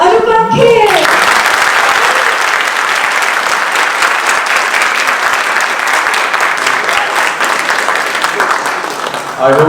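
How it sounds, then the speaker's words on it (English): Loud, dense audience applause fills a large talk venue as a speaker is welcomed, steady clapping with some crowd noise throughout, fading slightly near the end. "please put your hands together for Anupam Kher"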